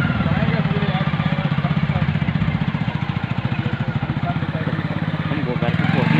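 A motorcycle engine runs loud and close on a road at night, a steady rapid thumping chug that holds throughout, with faint voices underneath.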